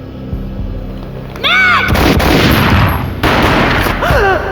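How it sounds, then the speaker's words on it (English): Several loud, booming gunshots from the final boss fight of the PC game Max Payne ring out close by over a noisy backdrop, with rising whistling tones before and after the blasts. "A gunshot boomed and she fell down in slow motion."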